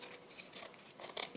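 Scissors snipping along the edges of a scrap of paper, a few quick, close, crisp cuts in uneven rhythm, quiet and alone.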